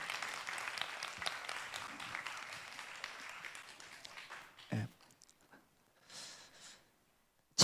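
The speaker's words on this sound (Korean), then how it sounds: "박수." Applause in a children's church worship service fills the first few seconds as a soft, steady patter of clapping, then fades out into near silence with only a few faint scattered sounds.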